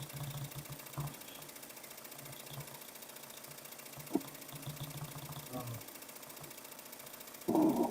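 An embroidery machine stitching the black outlines of a sunflower design runs with a steady, even mechanical whir at moderate level, punctuated by a few brief clicks and a louder burst near the end.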